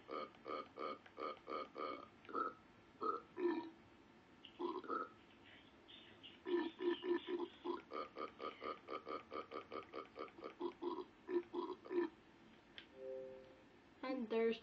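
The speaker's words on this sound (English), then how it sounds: "my YouTube video of basically nothing but my avatar burp" Video game avatar letting out repeated burps in rapid, rhythmic bursts, some drawn out, loud and close, with short pauses between runs and a voice briefly heard.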